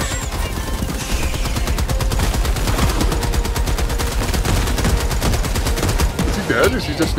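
Sustained rapid automatic gunfire in the video game Helldivers 2, a loud, steady stream of evenly spaced shots running almost the whole time, with a player's voice heard faintly under it.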